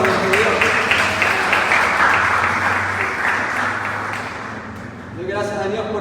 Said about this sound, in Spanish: ¿Cuántos dan un fuerte aplauso para nuestro Dios?